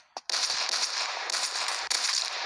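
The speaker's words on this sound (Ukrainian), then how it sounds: "Що там за нафіг перестрілка? Оу, як там сильно бабахнуло." Gunfire crackles in a military video game, a dense sustained burst of rapid shots after one sharp opening crack, loud and close, with brief breaks before the firing resumes.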